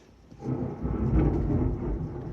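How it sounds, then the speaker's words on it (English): Low rolling thunder during a storm swells after a short quiet start and rumbles on steadily, fairly distant and alone without talk. "Can you guys hear the thunder?"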